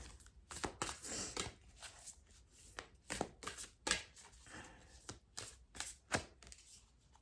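Rapid papery slaps and riffles come in bursts of card shuffling, close and fairly loud, with brief pauses between runs.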